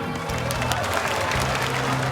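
Crowd applause after a Muay Thai knockout in a televised championship fight, a dense wash of clapping and crowd noise heard briefly and loudly.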